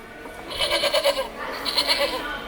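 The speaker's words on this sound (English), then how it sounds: "That's the sheep." A sheep bleat played back from a farm animal sound book toy: a quavering, pulsing baa in two short phrases, thin and electronic, heard clearly in a quiet room.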